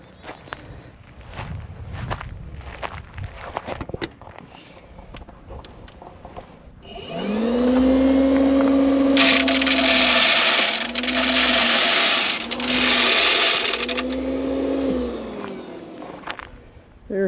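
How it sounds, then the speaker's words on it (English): A fish feeder set off at a catfish pond whirs loudly with a motor hum and broadband spray that rises and dips in several bursts, after a stretch of quieter outdoor footsteps and handling. "let's set the feeder off"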